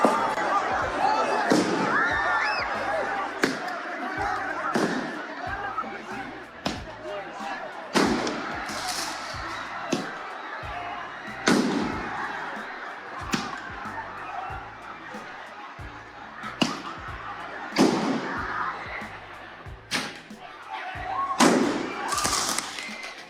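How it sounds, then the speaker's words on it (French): Fireworks thrown into a dense street crowd in Paris crack and thump in repeated sharp bursts, irregularly spaced, over constant loud crowd noise with voices and shouting. "qui ont balancé des feux d'artifice dans la foule."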